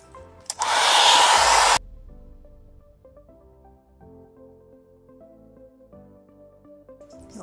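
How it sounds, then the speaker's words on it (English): A hair dryer blasts loudly for about a second, then cuts off, leaving quiet rustling and faint handling sounds. "I'll just use a little bit of hair dryer and then later let it dry naturally."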